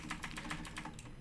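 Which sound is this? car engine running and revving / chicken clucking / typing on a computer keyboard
typing on a computer keyboard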